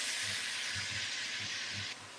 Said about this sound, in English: you can hear it sizzle right away because of all the liquid that's in it